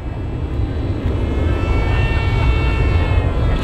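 A Hobbyking Yak 54 30ep 1280mm electric RC airplane flies at full throttle, giving a steady, loud motor and propeller whine that holds constant the whole time.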